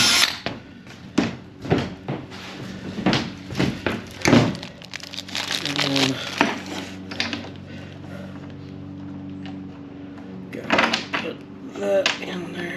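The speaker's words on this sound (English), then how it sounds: "now I'm just going to drill out each one of these holes one at a time." A power drill whirs in short bursts, drilling holes in a 1995 Featherlite trailer amid clunks and rattling of metal, with a longer steady whine partway through.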